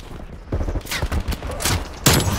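Rapid bursts of gunfire in a first-person shooter, several sharp shots landing in quick succession over about two seconds, loud and close, with a final strong report at the end.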